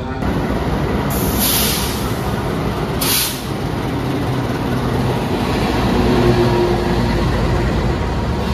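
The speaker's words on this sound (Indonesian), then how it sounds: "Dan ini teman-teman kereta api Lodaya dari Solo menuju Bandung ya" The Lodaya passenger train from Solo to Bandung, with premium economy cars, rolls past in a loud, steady roar and rumble, with two brief bursts of high hiss near the start.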